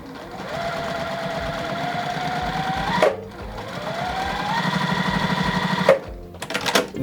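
Sewing machine chain piecing quilt fabric from pre-cuts, running in steady rapid stitching bursts, with two sharp clunks as it stops and restarts and a brief pause before it starts up again.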